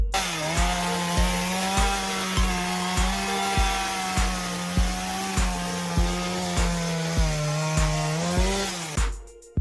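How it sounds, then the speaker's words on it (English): A chainsaw drones steadily while cutting bark from a date palm trunk, its engine pulsing in a regular rhythm, loud and close, before cutting off abruptly at the end. "Why is the bark of this tree trunk being cut with a chainsaw?"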